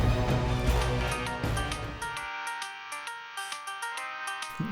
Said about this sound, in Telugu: బ్రోనే ఫోన్ చేశాడు.